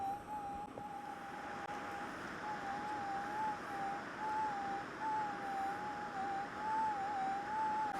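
Metal detector sweeping hilly ground while gold prospecting gives off a steady, wavering electronic tone that warbles throughout with no clear spike, consistent with a very faint target reading, over low outdoor wind noise.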